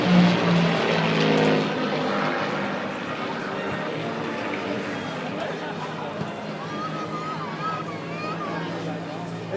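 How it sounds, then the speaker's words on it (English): Two solo propeller aircraft glide down and skywrite at the 2013 California Capital Airshow, giving a steady drone that is louder at first and then holds beneath an announcer talking almost the whole time. "back to the show center are 2 solo aircraft gliding down. They're going to do a little practice, a little skywriting here."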